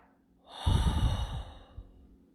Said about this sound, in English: take a deep breath in and then breathe it out